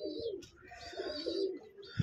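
Pigeons in a loft give soft, throaty coos, a few quiet calls close together, with a faint chirp among them.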